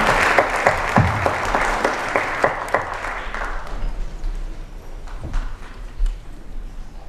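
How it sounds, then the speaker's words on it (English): Audience applause for parents and family members at a high school National Honor Society induction ceremony, a dense, loud burst of clapping for about four seconds that thins into scattered claps and room noise. "Big round of applause for all the parents and family members here this evening"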